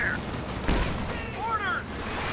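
Infantry gunfire in the Company of Heroes 2 strategy game, a steady rattle of rifle and machine-gun shots with battle noise and whistling, under game voices.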